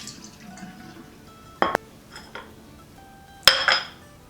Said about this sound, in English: you're going to take that bowl of water and you're going to empty it out.